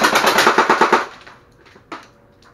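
A Tokyo Marui AA12 airsoft gun with a drum magazine fires a rapid burst of about eight sharp, loud shots lasting around a second, followed by quiet mechanical clicks and a single later clack.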